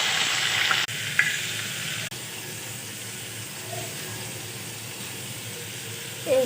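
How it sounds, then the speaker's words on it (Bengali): Onions sizzle steadily in hot mustard oil in a pan where turmeric-coated fish is frying, a constant close hiss broken by a couple of sharp utensil clicks. "পেঁয়াজটা দিয়ে দিচ্ছি।"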